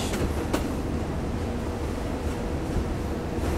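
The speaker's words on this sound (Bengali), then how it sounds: "তো আমাদের ট্রেনটা এখন ঢুকছে হচ্ছে বিশ্রামগঞ্জ।" Passenger train on the Agartala to Udaipur line pulling into Bishramganj station, a steady loud rumble of wheels and carriages throughout with a brief sharper clank near the start.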